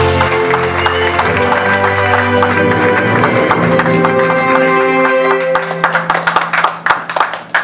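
Audience at an award ceremony clapping, a dense loud wash of applause that thins into scattered individual claps near the end, with voices and music mixed in.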